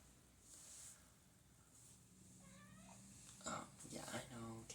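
A pet cat meows softly several times indoors, the short calls quiet and close, mixed with faint rustling and low background noise.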